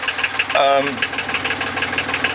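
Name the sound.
sailboat engine running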